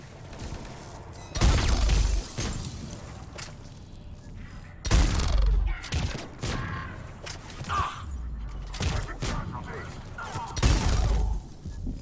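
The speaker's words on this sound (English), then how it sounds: "Please stop shooting me" Gunfire in Mass Effect 3 multiplayer: loud, sharp bursts of shots recurring every few seconds, each with a heavy low boom, separated by quieter game ambience.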